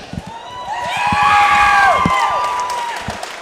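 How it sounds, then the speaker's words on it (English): A loud crowd at the Coastal Combat MMA 9 event cheers and whoops as fighter Andrew Welsh is announced, swelling to a peak with shrill whistling before easing off. "a pop from the crowd there as Andrew Welsh is announced to make the walk"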